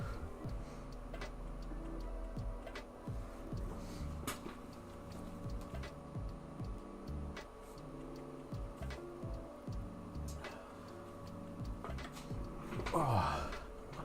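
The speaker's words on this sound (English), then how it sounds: "I can hear my printer starting up." A 3D printer starts up and runs in a room, giving off faint, steady ticking and clicking stepper-motor sounds with occasional louder clicks and a brief rustle near the end.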